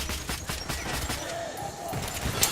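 Rapid machine gun fire from a reflex-sighted rifle in the video game Metro: Last Light, fairly quiet and steady over a couple of seconds with a sharper crack near the end.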